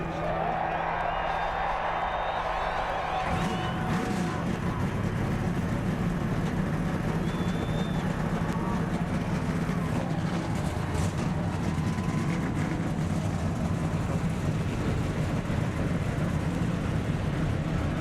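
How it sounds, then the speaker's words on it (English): NASCAR Nextel Cup stock car engines firing up together at Las Vegas in 2007, a sudden loud broadband roar that swells and holds steady, with crowd noise mixed in. "Gentlemen, start your engines."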